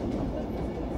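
A model train runs at the 53rd annual model train show in Melbourne, Australia, making a dense, steady rolling rumble that fills the short moment with no clear gaps.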